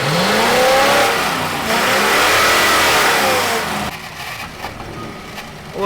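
A car engine with a faulty accelerator pump revving hard as the driver gives it gas, a loud rising and falling vroom close by that drops back toward idle near the end.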